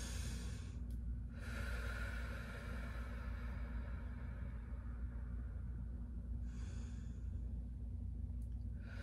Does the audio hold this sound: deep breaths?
yes